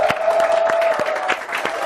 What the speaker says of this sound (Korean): 여러분 큰 박수 부탁드려요.